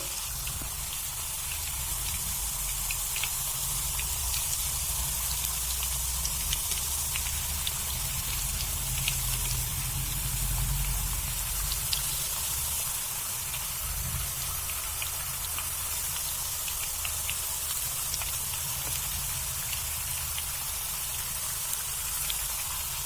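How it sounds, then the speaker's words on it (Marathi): Raw banana chip slices frying in hot oil in a home kitchen give a dense, steady crackling sizzle that holds evenly throughout, with no voices. "आता आपण त्यामध्ये वेपर्स सोडणार आहोत."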